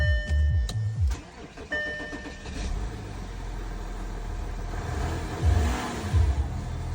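An Audi A6 C6 with a 3.0 TDI diesel engine that won't start cranks and briefly catches, the engine rumbling loud and close before settling into a rough, uneven running sound.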